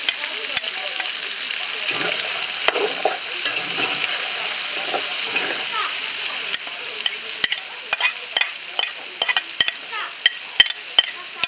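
Onions frying for rougail saucisse in a pot over a wood fire, a bright continuous sizzle with stirring scrapes, giving way to sharp repeated spoon knocks against the pot in the later seconds.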